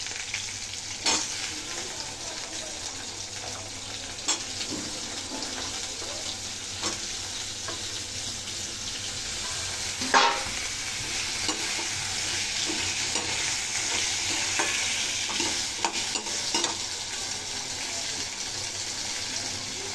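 Potatoes and beans fry in a pan with chillies and tomato, a continuous hiss of sizzling oil punctuated by repeated scraping clicks of a spoon stirring through the whole stretch.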